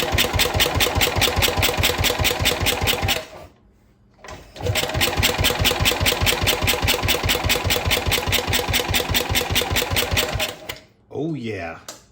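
A Wheel Horse 702 lawn tractor engine cranks over with a fast, steady mechanical chugging, loud and close, in two long bursts separated by a brief pause, followed by a short stretch of quieter noise.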